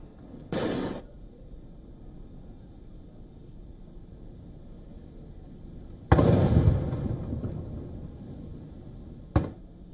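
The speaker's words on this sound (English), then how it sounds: "The Prime Minister then received a 21-gun salute at the ceremonial welcome in Maldives." Ceremonial 21-gun salute at a state welcome in the Maldives, with three sharp booming shots spaced several seconds apart, each trailing off, over a quiet outdoor background.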